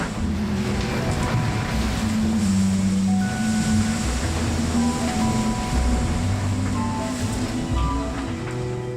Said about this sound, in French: Un sifflet fort, un sifflement lourd, quoi, un sifflement de vent fort